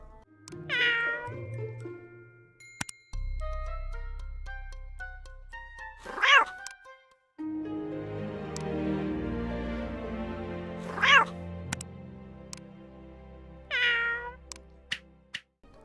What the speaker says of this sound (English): the sound of cats meowing is cute